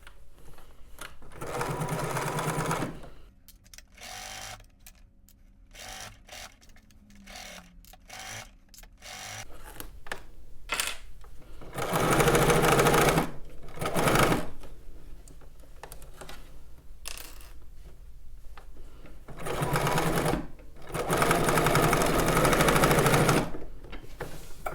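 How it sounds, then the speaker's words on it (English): A home sewing machine stitches down side seams on a summer garment, with several loud bursts of rapid mechanical whirring separated by pauses and quieter handling noises. "Let's go ahead and head over to the machine and stitch this down."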